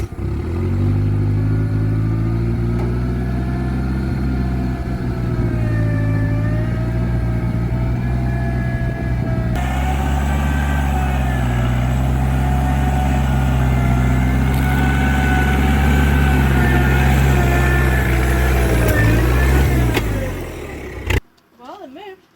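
An old forklift that has sat unused for about eight months rumbles loudly with a steady low engine drone and rising revs, then cuts out abruptly at the end.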